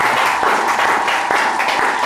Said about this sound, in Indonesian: kita kasih tepuk tangan yang paling meriah dulu dong buat keempat pemain kita yang udah hadir pada malam hari ini